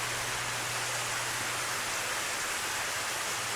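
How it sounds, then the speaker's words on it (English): Steady rain and thunder ambience in the Higurashi visual novel, a dense unbroken hiss of rainfall with a low constant rumble beneath, no voices. "With the sound of rain and thunder."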